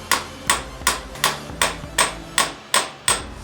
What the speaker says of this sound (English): You can just take your everyday ball peen hammer and give that axle